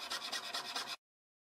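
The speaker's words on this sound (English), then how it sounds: "I'm cutting right into the V-board as well as the copper." Rapid, steady rasping strokes of a hand saw biting through copper sheet held on a V-board, close and fairly loud, stopping abruptly after about a second.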